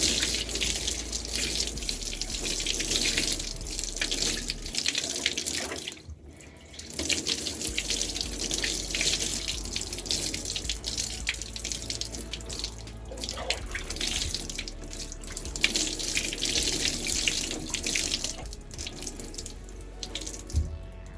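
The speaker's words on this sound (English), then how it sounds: "So now after you did that, you just want to rinse your hair out." Water from a tap runs steadily while hair is rinsed in a scramble wash, a close, continuous splashing rush that dips briefly partway through before resuming.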